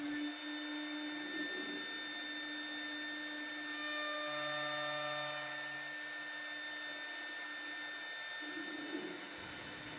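A Legacy CNC router mills through dovetail joints in wood, a steady tonal spindle whine with the bit's cutting noise rising and falling as it moves along the workpiece, no voices.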